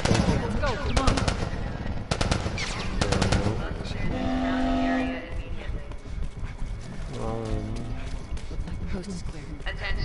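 Bursts of video game gunfire from The Last of Us Remastered ring out in rapid clusters, mixed with game sounds and loud, excited talking over the action.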